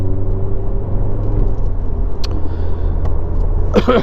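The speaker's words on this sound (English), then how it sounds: "the engine noise and the way it revs through makes it all worthwhile" A 2009 Renault Clio 200 engine drones steadily and close by, with a sustained low rumble from a car that is running and revving, plus a couple of brief higher clicks near the end.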